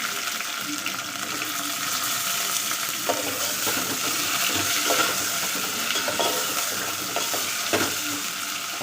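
Indian mackerel (bangade fish) sizzling in a pan of ground masala, a steady close frying hiss with occasional stirring knocks and scrapes, no talking.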